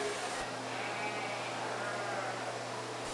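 At a 4-H sheep show, a sheep bleats in a long, wavering cry over an even hum of the show ring.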